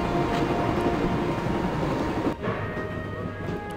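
Train rolling steadily on rails in the Broken Sword video game, a continuous loud rumble with faint rhythmic clatter that briefly dips partway through, no voices.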